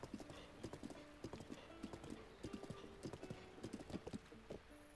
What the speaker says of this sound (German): Ist immer noch ganz lieb, braves Pferd.